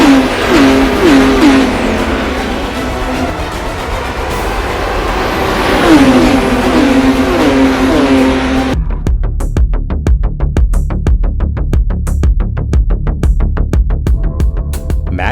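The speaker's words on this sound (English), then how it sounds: "being able to see an entire field of 917-30s competing against each other on Assetto Corsa" Porsche 917-30 race cars in the Assetto Corsa racing game, a loud high-pitched engine roar that rises and falls through gear changes, then cuts to a rapid, pulsing engine buzz as a car passes close.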